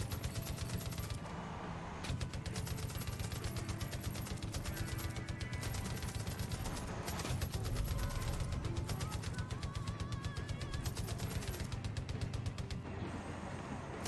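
Rapid, continuous cannon fire from a weaponised vehicle in the video game Far Cry 5, a dense loud barrage of repeated shots running almost unbroken for the whole stretch.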